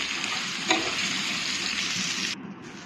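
Spice paste fries in a pan for a taro leaf dish, a close, continuous sizzle with a brief stir-scrape midway, the hiss dropping suddenly near the end.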